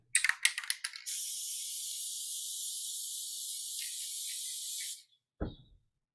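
A few quick spray-can bursts, then one long steady hiss of paint spraying for about four seconds before it cuts off, followed by a brief thump.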